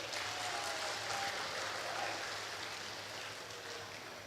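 Applause from an audience at a school end-of-year ceremony in Semarang, a faint, far, dense patter of clapping that holds steady and tapers slightly.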